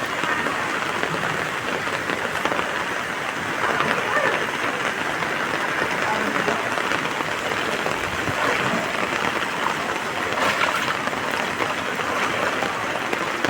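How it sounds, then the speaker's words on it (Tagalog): Heavy typhoon rain in Valenzuela during flooding, a loud dense continuous roar of downpour that stays constant and close throughout. "Grabe tong ulan na to mga guys."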